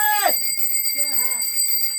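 A bell rung at a house door, a bright ringing tone with a quick falling sweep at the start, followed by a short warbling chime over a steady high electronic whine.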